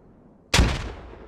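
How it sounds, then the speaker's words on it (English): A single heavy blast in the video game Squad, where grenades and gunfire fill a firefight. The sharp bang comes after a quiet moment and rolls off into a fading boom, with no voices. "Grenades being thrown."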